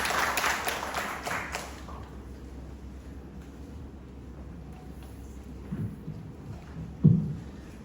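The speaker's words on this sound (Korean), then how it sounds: "박수로 맞이해 주시길 바라겠습니다." An audience at a Jeongju International School admissions briefing and press event applauds to welcome a student speaker. The clapping is brief and fades out within two seconds, leaving a quiet room with one dull thump near the end.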